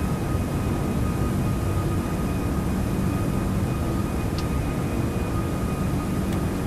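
Steady broadband roar of a Toliss A340-600 airliner's engines at climb power in X-Plane 12, a continuous even rumble with a faint tonal whine and no break across the stretch.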